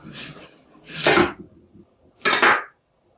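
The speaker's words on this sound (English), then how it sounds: "So with a serrated knife, just cut away." A serrated knife saws through the base of a pumpkin in three rough, rasping strokes, close up and with no one talking.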